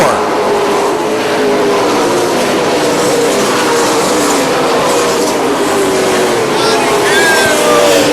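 Super late model race cars roaring around an oval track, a continuous loud engine drone from the pack running nose to tail, heard from a distance with an announcer talking over it.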